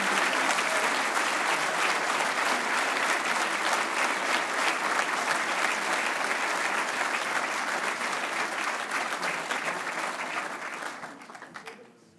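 A family business awards audience applauds the winners, dense sustained clapping filling the room at full strength before gradually thinning and fading out near the end.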